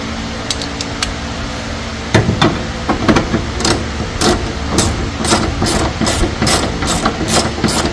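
Hand ratchet tightening rear subframe support bolts on a Nissan 350Z drift car, loud close rapid clicking pawl strokes in repeated bursts, first sparse then steady and rhythmic, with no talking.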